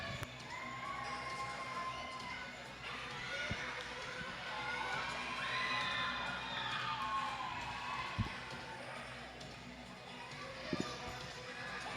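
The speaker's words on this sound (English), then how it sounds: "Puns and Roses down there riling up the crowd" A roller derby crowd at a junior championship bout cheers and shouts in a steady, moderately loud wash, with occasional thumps and scattered voices throughout.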